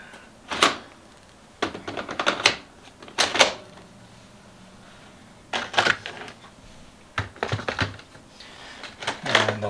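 Toner cartridges click into place one after another in an Uninet iColor 560 white toner printer, giving sharp, close plastic snaps in irregular bursts with quiet gaps between.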